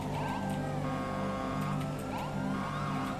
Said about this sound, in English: All the cars are dodging my way because I have the siren on